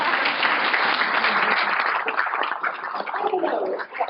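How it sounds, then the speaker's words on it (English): An audience applauds together after a university research talk, a thick sustained wash of many hands clapping that dips briefly near the end. "Guys, we deserve a round of applause."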